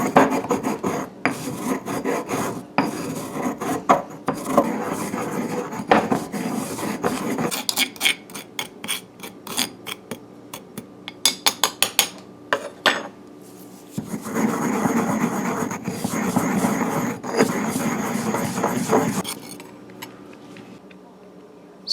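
Salt and pepper are ground together by hand, a close, loud, repeated rasping and rubbing with a few short clinks partway through. A voice is heard over parts of it.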